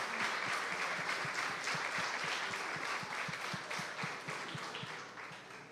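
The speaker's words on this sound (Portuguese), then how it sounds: "Você pode aplaudir ao Senhor?" A church congregation claps during a baptism celebration service, a dense, steady wash of applause that slowly fades out, with rhythmic low thumps underneath.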